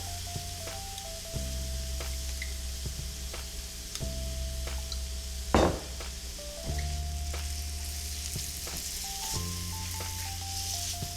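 Shrimp sizzling in olive oil over medium heat, a steady close frying hiss with occasional stirring clicks and scrapes, no talking.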